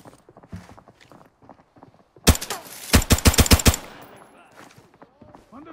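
Rapid burst of gunfire in the shooter Arena Breakout, with a G17 pistol in play, seven or eight sharp close shots in a quick rhythm, loud and distinct after a stretch of quieter footsteps and movement.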